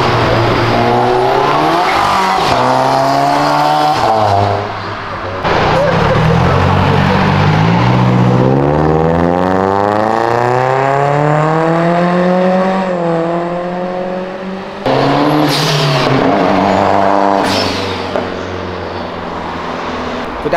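Loud cars with roaring exhausts rev hard and drive past one after another on Avenida Europa, engine notes rising and falling close by with no talk over them.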